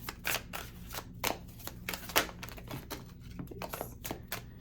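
Tarot cards are shuffled by hand in quick, irregular riffles and flicks, soft and close with no talk.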